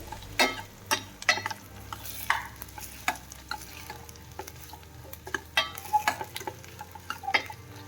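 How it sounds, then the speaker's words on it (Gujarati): Potatoes get stirred into hot oil tempering with sesame for farali potato khichdi, a spoon clattering and scraping against the pan in quick repeated strokes over a soft sizzle, close up with no voices. "આમાં સારી રીતે તેલમાં આપણે મિક્સ કરી દેશું વઘાર સાથે"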